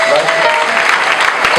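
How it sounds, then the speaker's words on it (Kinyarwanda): A church service congregation applauds, loud close clapping as a dense wash with some sharper claps, while a voice talks over it. "Komera Yesu amashyi menshi cyane."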